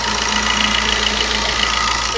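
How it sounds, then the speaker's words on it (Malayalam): Diesel engine of a Chevrolet Enjoy running at idle, a steady, even drone with a low rhythmic throb, close up and continuous with no talk. "ഇപ്പോൾ എൻജിൻ ഭാഗങ്ങളിൽ നിന്ന് പെർഫെക്റ്റ് ആയിട്ടുള്ള ഡീസൽ എൻജിൻ്റെ സൗണ്ട് മാത്രമേ ഉള്ളൂ"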